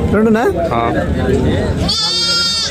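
Several goats, including young kids, bleat loudly and close by at a weekly goat market, with overlapping wavering cries and people talking.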